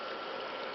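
Recycled garden pond water runs down a black pipe on its way back underground to a lake, giving a steady, close broadband gush and trickle that fills the whole short moment without a break.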